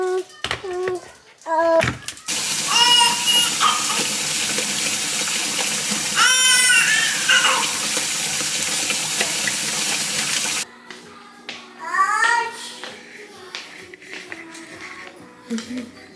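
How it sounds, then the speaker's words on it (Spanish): Water runs from a kitchen tap to be heated for coffee, a steady broadband gush lasting several seconds before cutting off, with a voice and adult speech around it. "Solo tengo que poner el agua para calentar."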